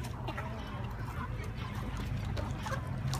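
Fighting-breed chickens at a farm clucking and chattering in a close, busy flock while being fed grain, a steady mix of overlapping calls.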